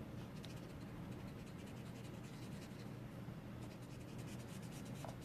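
A pencil colours a stamped note card with quick, light scratching strokes, a continuous close-up rasp over a steady background hiss, with no talk.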